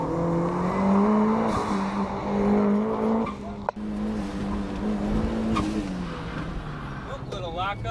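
Turbocharged Mazda Miata pushed hard on a fast lap, its engine droning steadily before a brief tyre chirp as the brakes lock up, with a voice talking over the engine throughout.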